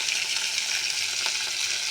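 Small chengbele fish frying in hot oil, a steady, close hiss of sizzling with faint crackles throughout and no talking.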